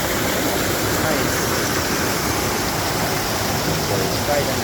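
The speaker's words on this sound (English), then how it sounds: "show you how the water cascades down in this little creek" Water cascading down a small creek near the Chimney Tops trailhead in Great Smoky Mountains National Park, a steady broadband rushing wash heard up close, constant with no breaks or voices.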